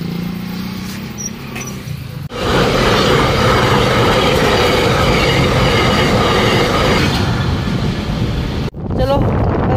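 A train rolls past close by at a level crossing, a loud sustained rumble and clatter of wagons running for several seconds with wind buffeting the microphone, then ending abruptly.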